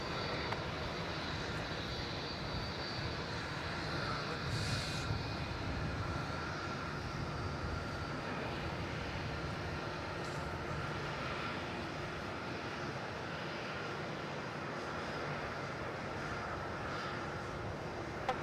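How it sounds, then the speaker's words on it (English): A Jetstar Airbus A321neo taking off from runway 34 at Melbourne Airport, a steady distant engine roar that holds throughout, with no voices over it. "we'll see how we go with this Jetstar departure. That's 508 from Kilo with the 321 off to Sydney."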